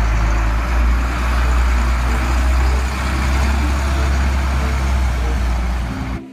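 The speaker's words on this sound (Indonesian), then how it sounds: "Mobil truk sampah." A garbage truck's engine rumbles close and loud with a deep, steady drone and broadband road noise for several seconds, then cuts off abruptly at the end.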